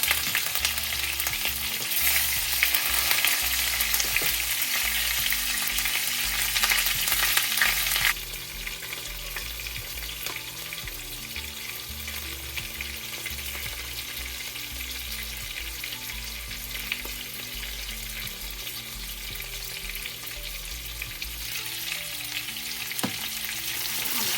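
Chicken strips fry in hot lard with a dense, continuous sizzle that is loud and close at first, then drops to a steadier, softer crackle.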